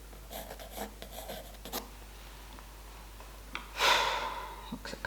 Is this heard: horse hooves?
no